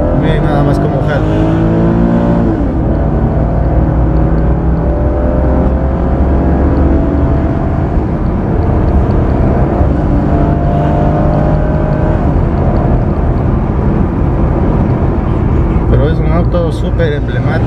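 A Chevrolet Camaro RS accelerating hard, its loud engine roaring steadily and close up, with wind and road noise mixed in and someone talking over it.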